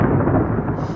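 Thunder rumbles through a thunderstorm, a continuous deep low roll filling the whole second at steady, fairly loud level, with no voices over it.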